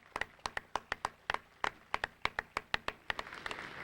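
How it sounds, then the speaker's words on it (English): Sparse clapping from a handful of people at a 1999 high school talent show, sharp separate claps in an irregular rhythm, fairly quiet and close, with no talking over it. "a nice round of applause for Laura Kaplan."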